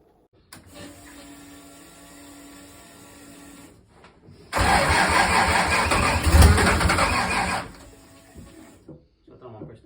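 A Ford Falcon doorslammer drag car cranks at a steady moderate level, then its engine catches and runs loud and rough for several seconds before cutting back to quiet.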